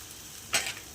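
Water poured into dal in a hot pan gives a single short, bright sizzling hiss that rises sharply and quickly settles over quiet background noise.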